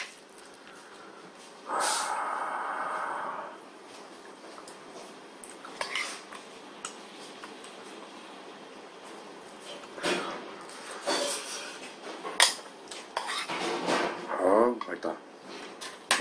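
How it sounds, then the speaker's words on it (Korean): Rice being stir-fried in the bottom of a leftover gopchang jeongol stew pot at a market restaurant, with scraping and clinking of utensils against the metal pot amid nearby diners' chatter and background talk. "마지막은 밥을 볶아 먹어봐야겠습니다."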